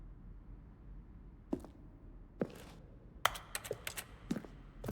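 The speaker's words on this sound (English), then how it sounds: "Each sound is a mix of keyboard stroke and a synthesized tone." Button sounds from the video game The Stanley Parable, each a keyboard stroke blended with a synthesized tone, come as sparse, quiet clicks over a faint hiss, first singly, then in a quick cluster.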